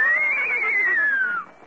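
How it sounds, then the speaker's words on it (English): A single horse whinny, used as a sound effect on a 1953 comedy radio show, rises and wavers for over a second before cutting off, close and clear with no talk over it. "Here are the horses, Mr. Benny."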